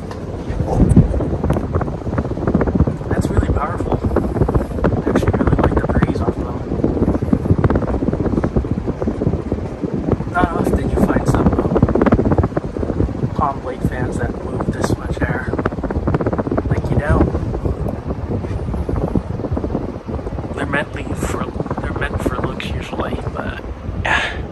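A 52-inch Gulf Coast Tiki damp-rated ceiling fan runs at full power, giving a steady broadband rush of moving air that buffets the microphone like wind, with someone talking over it throughout.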